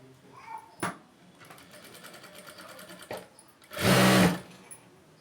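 A sewing machine stitches a blouse piece in one short, loud mechanical burst near the end, following quieter handling noises and a couple of soft knocks.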